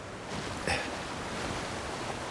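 Rushing waterfall in the fantasy video game Avowed, a steady, moderately quiet wash of broadband noise with one brief brighter splash partway through.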